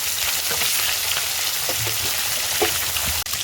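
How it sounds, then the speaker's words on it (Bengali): Fish fries in hot oil in a wok, a steady close sizzle with small crackles and pops and a brief click just before the end. "কড়াই তেল গরম হয়ে গেছে, এবার মাছ ভাজার জন্য মাছ দিয়ে দেবো।"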